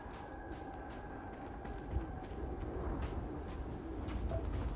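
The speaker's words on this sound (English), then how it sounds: "Bird." A bird coos softly in the video game Starfield, faint repeated calls set against a steady ambient background with occasional light ticks and footstep-like taps.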